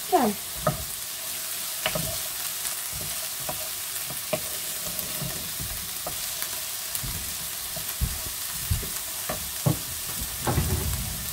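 Rabbit pieces brown in a frying pan under a constant soft sizzle, broken by scattered knocks and scrapes of stirring; no one speaks.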